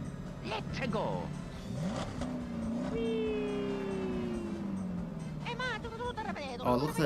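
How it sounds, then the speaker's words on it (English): Cartoon car engine revving in a Mario animation, a rising, building whine mixed with character voices and music, loud and up front throughout. "it looks like the engine's preparing to go really fast"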